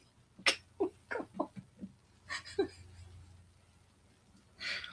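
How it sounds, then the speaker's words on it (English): A cat meows in a rapid run of short, loud cries indoors, with a faint voice and quiet background between the calls. "Yeah, it's a loopy cat."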